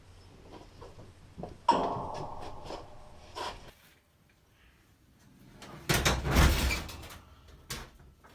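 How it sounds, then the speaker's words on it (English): A door slides and thuds shut nearby, with a rolling rumble and a solid knock, followed by quieter shuffling. "Aye, just shut the door."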